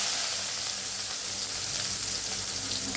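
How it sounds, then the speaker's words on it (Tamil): Fennel seeds splutter in hot oil in a pan while a potato dish is cooked, a loud, steady, dense sizzle with a faint low hum under it and no talking. "நம்ம சோம்பு பொரிவிட்டேன்."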